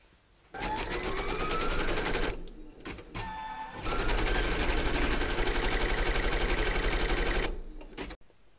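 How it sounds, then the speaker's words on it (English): Embroidery machine stitching a placement outline for batting in a hoop, running in two loud bursts of rapid needle chatter separated by a short pause, stopping near the end. "Pop your hoop in and then stitch round number 1"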